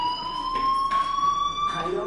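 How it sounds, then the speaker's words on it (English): Fire alarm in the video game Life Is Strange, a steady high electronic tone sounding continuously, with brief bursts of other noise over it. "do you hear that fire alarm? That means you should be outside."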